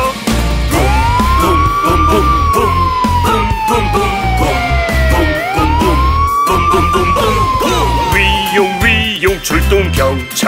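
A wailing emergency siren for a red fire truck sweeps slowly up and down in long repeated cycles. It plays within a children's song, over bouncy music and singing.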